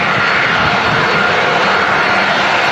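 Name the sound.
jet aircraft at Manchester Airport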